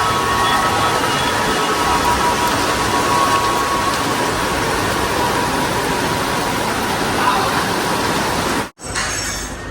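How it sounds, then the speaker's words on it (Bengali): Heavy rain pouring in a steady, dense hiss with no pauses, close and loud, cutting out briefly near the end. "অনেক বৃষ্টি হচ্ছে"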